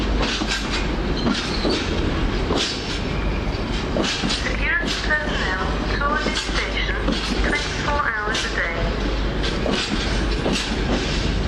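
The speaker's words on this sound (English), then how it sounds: "the train for Stanstead Airport sitting in the platform" A train bound for Stansted Airport rumbles and clatters steadily at a station platform in Leicester, wheels squealing and screeching against rails, with people talking faintly underneath.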